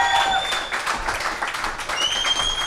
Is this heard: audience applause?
yes